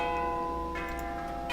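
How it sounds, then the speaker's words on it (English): Pitch-shifted wind chime effect for swinging tubes in a computer graphics project, sustained ringing metallic tones layered together, with fresh bright strikes entering near the middle and end, clear and alone. "So these are kind of like chimes."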